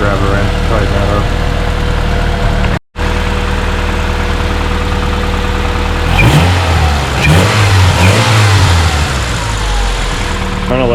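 A 1991 Honda Accord CB7 engine with newly installed exhaust headers runs steadily close by, a continuous mid-pitched hum that swells into throatier revving toward the end, with a brief dropout early on.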